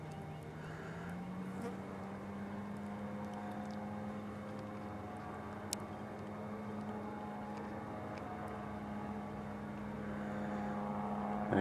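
An RAF 2000 gyrocopter makes a low pass over an airstrip, its engine a steady distant drone that holds a level pitch and slowly grows louder as it nears.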